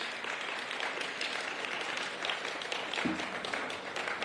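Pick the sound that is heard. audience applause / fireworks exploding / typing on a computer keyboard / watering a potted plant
audience applause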